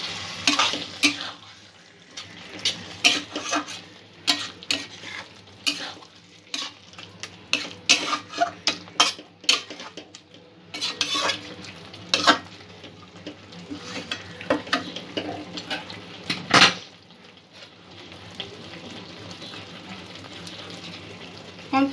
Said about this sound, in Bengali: ভালো করে মিক্স করে নেব।